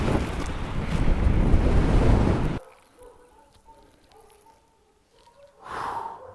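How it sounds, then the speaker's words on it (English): Loud gusts of wind buffet the microphone in a roaring burst, drop away to near quiet, then rush back briefly at the end. "It's a bit windy."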